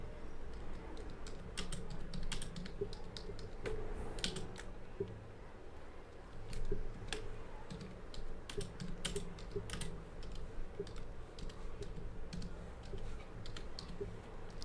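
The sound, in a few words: typing on a computer keyboard with one hand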